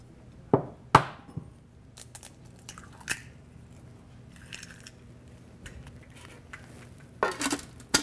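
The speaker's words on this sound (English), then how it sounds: "So I'm going to crack them into this bowl." Eggs are cracked one at a time into a bowl for a soy dessert, a few sharp taps and crunches of shell spaced apart, with quiet handling noises between, close and without talk.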